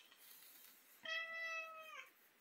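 Hungry cat giving one clear, drawn-out meow of about a second, faint and alone against quiet room noise.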